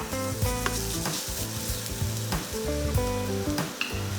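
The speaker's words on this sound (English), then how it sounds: "I like to just bash it whole and throw it straight in and keep all that flavour." Whole bashed garlic sizzling in a pan for Vietnamese lemongrass beef, a steady close frying crackle under a bed of background music, with no talking.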